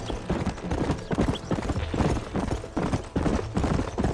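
Horse hooves pounding in a fast, steady clip-clop gallop from the Red Dead Redemption game, loud and close with dense repeated beats.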